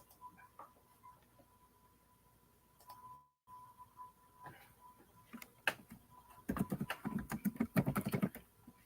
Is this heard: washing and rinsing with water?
no